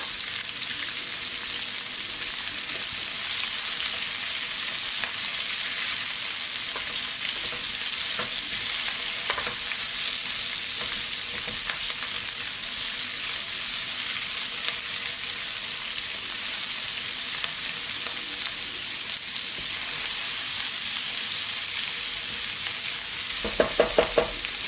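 Chopped spring onion fries in a hot pan for a Chinese sesame honey chicken, a loud, even, continuous sizzle holding steady throughout with a few sharp crackles near the end.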